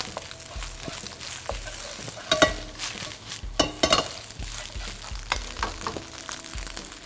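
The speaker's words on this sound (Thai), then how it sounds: "เราจะต้องผัดให้เขาหอมขึ้นมาอีก" Salted egg and roasted mackerel are stir-fried in a pan for fried rice, with a steady sizzle broken by scraping stirs and occasional clinks of the utensil against the pan.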